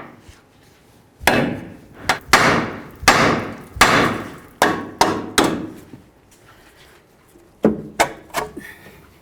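A hammer strikes a Chevy S-10 steering knuckle near the tie rod end: seven sharp metallic blows in quick succession, a pause, then three more, loud and close.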